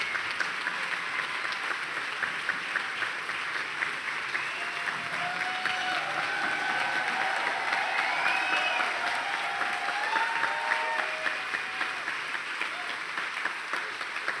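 Theatre audience applauding at an awards tribute for the late entertainer Paul O'Grady, a dense, sustained roar of clapping from a large crowd that holds steady throughout with no voices standing out.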